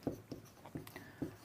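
Pen scratching on paper while writing out a Class 10 polynomial maths problem, heard as a few soft, rhythmic strokes close to the microphone in a quiet room.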